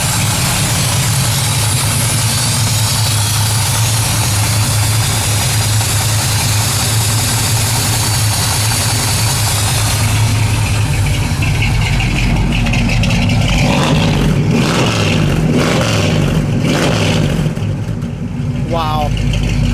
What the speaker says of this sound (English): that big block sounds nasty.